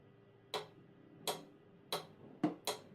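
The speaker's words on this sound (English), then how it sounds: "Let's try that with the metronome." Sharp metronome clicks, five in a row at a steady pace, with the last two a little closer together, each crisp and isolated against near silence.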